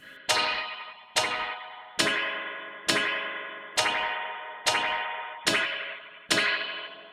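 A Pulsar Primavera spring reverb set to looser tension rings out in eight regular struck bursts roughly a second apart, each a fuller, boomier metallic crash with a splashy wash that decays before the next hit.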